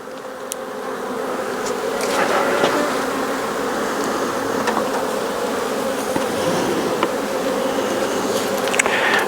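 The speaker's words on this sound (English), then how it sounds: "All right, a lot of bees in this hive." Dense, steady drone of many honeybees in an open, crowded beehive, close and continuous, with occasional faint clicks and knocks of frames being handled.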